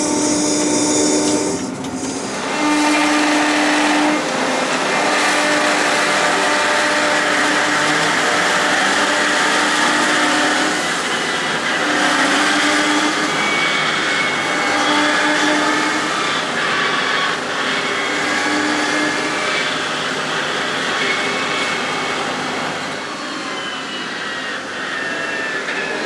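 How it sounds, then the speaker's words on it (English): A combine harvester drives during harvest, a loud, continuous rumbling and clattering engine roar with rattling machinery that holds steady throughout and eases slightly near the end, no speech. "It's the combine."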